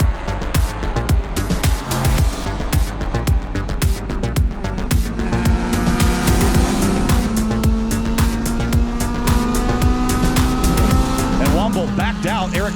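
Several race cars pull away together at the start of a Grid Life Touring Cup race at Lime Rock Park, a dense continuous engine roar with rising revs and tire noise, close and loud, under an announcer's commentary.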